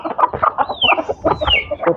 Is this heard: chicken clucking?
yes